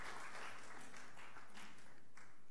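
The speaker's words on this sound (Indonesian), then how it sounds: "Kami tepuk tangan" Audience applause at a university national forum in an auditorium, a fairly quiet, steady patter of clapping lasting a couple of seconds and fading slightly toward the end.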